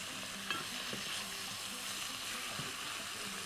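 Garlic and meat frying together in a pot, a steady broad sizzle running throughout with occasional soft knocks of stirring, close and moderately loud, no voices.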